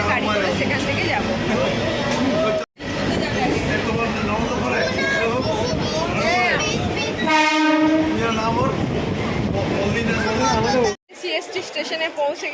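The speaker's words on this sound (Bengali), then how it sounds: "আমাদের ট্রেন ছেড়ে দিল।" A Mumbai local train pulls out and runs along with a loud, steady rumble and rattle, a horn blaring for about a second midway, and passenger chatter mixed in close by.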